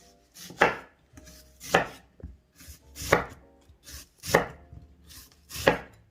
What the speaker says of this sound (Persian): اینجا من یه دونه پیاز دارم، میخوام اینو کاراملیش بکنم. اینو حلقه ای من برش میزنم.